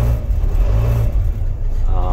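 A 1992 Toyota Coaster diesel mini bus with a fully mechanical injected engine revs up, a loud low rumbling roar that rises and settles over about two seconds, close to the listener.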